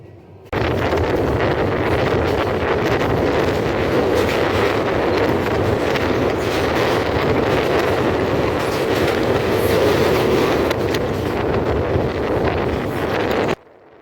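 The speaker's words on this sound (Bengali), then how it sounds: "সন্ধ্যা নেমে আসছে আর আমাদের ট্রেনের গতি যেন আরও বেড়েই চলেছে" The Mohanagar Godhuli Express passenger train from Chittagong to Dhaka rolls steadily along the rails at dusk, a continuous loud rumble with faint clatter and wind buffeting throughout.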